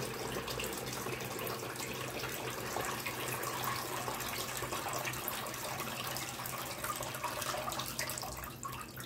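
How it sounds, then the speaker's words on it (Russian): Water is poured back into a container while brine for beet-tinted sauerkraut is being made, a steady close splashing stream that continues throughout and eases off at the end, with no speech. "Наливаем эту воду обратно в какую-нибудь емкость."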